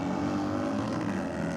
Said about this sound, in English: This would be running through our last group of Harleys